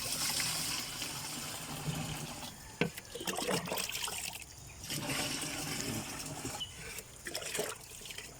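A homemade sprayer built from a broken 20-liter sprayer fitted with a hose and a switch sends fertilizer solution onto eggplants, making a steady, close watery splash and trickle with brief louder spurts and no talk.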